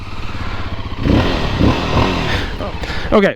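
A 2025 Voge 300 Rally adventure motorcycle engine cranks and catches, then settles into a mild, steady idle close by, with a person speaking briefly over it.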